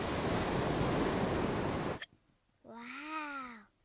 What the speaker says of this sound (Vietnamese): Wow, con có thể nghe thấy tiếng biển rồi bà.